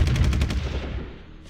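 Artillery shelling in the strategy game Supreme Ruler Ultimate: a loud burst of rapid booming detonations up front that fades into a rumbling tail, with no talking.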